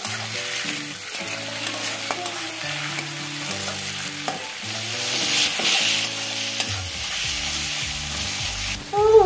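Tomatoes frying with onion, ginger and garlic in a hot pan for a chicken dish, a continuous close sizzle with spatula stirs and scrapes, and a louder spit near the end.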